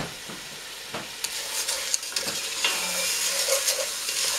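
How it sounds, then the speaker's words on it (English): A spoon stirs split peas through soup in a pot, producing irregular scraping and clinking taps over a low simmering hiss that grows busier toward the end, close and without talk. "Stir that around a bit"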